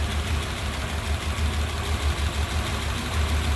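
A 1935 Ford Deluxe coupe's flathead engine idles smoothly, a loud, steady low rumble with an even pulsing rhythm, heard close up with no talking.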